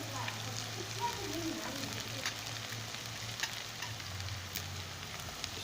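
Golden onions fry in a pan with ginger garlic paste added, giving a steady sizzle with occasional stirring and a low hum beneath.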